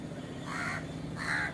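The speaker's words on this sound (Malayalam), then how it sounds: "ഹായ് കാക്കമ്മ, നിനക്ക് ഭക്ഷണം അവിടെ വെച്ചിട്ടുണ്ടല്ലോ" A crow near a wall where food has been left caws twice outdoors, two harsh, moderately loud calls about half a second apart over low background noise.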